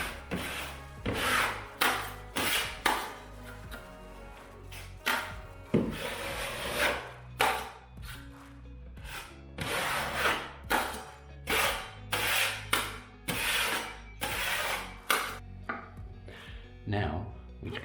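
A filling knife scrapes and rubs a second coat of filler across a patched hole in plasterboard, repeated rasping strokes in an uneven rhythm, close and fairly quiet with short pauses between passes.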